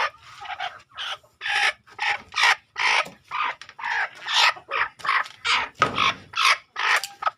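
A native country hen, set on a clutch of duck eggs, clucks close by in a steady run of short, repeated bursts with brief pauses between them.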